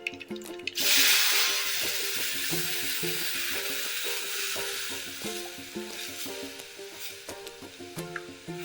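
Turmeric frying in hot oil as batter for Gujarati nylon khaman dhokla is poured in, a steady close sizzle with stirring and light clinks, no talking.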